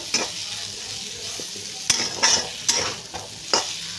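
A spiced soybean mixture sizzles steadily in a pan while a spatula stirs it, with scattered scrapes and metallic clinks close by.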